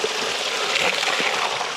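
Slaty Creek running, a steady rushing and splashing flow of water heard close and fairly loud with no voices.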